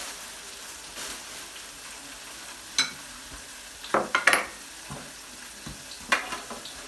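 Shrimp fry in a pan with a soft, constant sizzle, broken by a few sharp clicks and scrapes of a utensil stirring, all fairly quiet and close.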